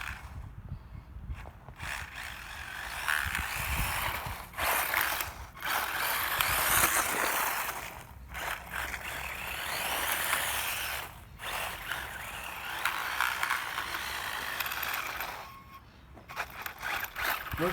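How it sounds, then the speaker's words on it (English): A WLtoys 20402 Pocket X-Maxx RC car with gravel inside its dying gearbox produces a harsh, continuous grinding and rattling whine outdoors, loud and close, with brief drops in between bursts of driving. "Again this horrible noise. I assume there is gravel inside the gearbox."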